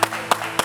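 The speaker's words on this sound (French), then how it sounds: "On applaudit pour Henri." Three separate hand claps at a steady, evenly spaced rhythm, fairly close and moderately loud over a faint tonal hum, as a crowd at a Koumassi youth event is invited to clap for a young man.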